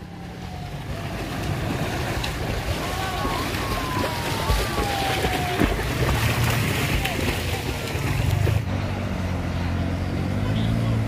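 An automatic motor scooter engine runs and revs while pushing through deep flood water, a steady loud rumble mixed with splashing and sloshing, with people talking over it throughout.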